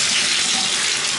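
A bathtub tap in an apartment runs at strong pressure, giving a loud, even hiss of gushing water close by with no voices.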